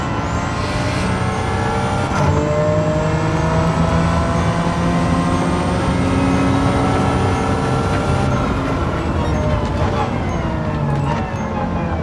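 A 1990 Nissan R32 GT-R NISMO racing at Interlagos in Gran Turismo 7 holds a steady, loud turbo engine drone with rising, shifting tones and a gear change partway through.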